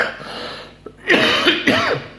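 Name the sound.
coughing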